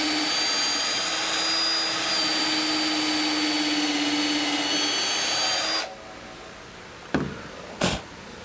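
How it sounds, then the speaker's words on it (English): A power drill bores a pilot hole for a wood screw in a workshop, its steady high whine running loud and continuous for about six seconds before cutting off, followed by two short bursts of the drill. "I'm just going to start by drilling a pilot hole in here for my screw to go into."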